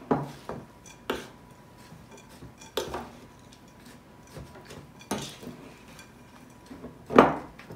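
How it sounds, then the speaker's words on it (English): Christmas pudding mixture with nuts being stirred in a bowl, with a spoon giving intermittent knocks and scrapes against the sides, about every second or two, over a quiet background. "So I'm going to give that a good stir."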